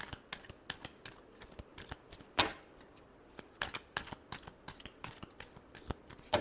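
Tarot cards being shuffled by hand in a quiet room, a run of soft, papery riffles and slaps repeating at an uneven rhythm, close and fairly faint, with no talking.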